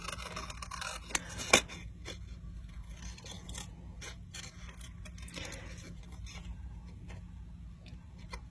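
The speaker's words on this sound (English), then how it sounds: "you can take your scissors and trim around it" Scissors trim around a paper cutout, making faint scraping snips with one sharper cut partway through, over a quiet steady room hum and no talk.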